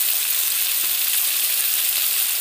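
Small puti fish frying on one side in hot oil in a kadai, a continuous even sizzle and crackle heard alone at close range.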